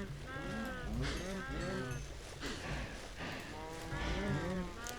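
Several Minecraft cows moo in quick succession, overlapping low bovine calls close by that repeat every second or so, with occasional speech mixed in.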